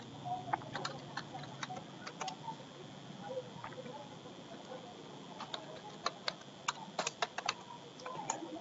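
Keys clacking on a computer keyboard while a name is entered into an online admission form, irregular bursts of light taps with short pauses, close and alone.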